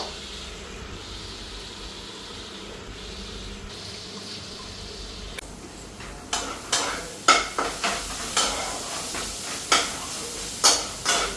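Leafy greens frying in a pan on a home stove, first a quiet steady sizzle, then a run of loud, close spatula scrapes and knocks against the pan in an uneven rhythm.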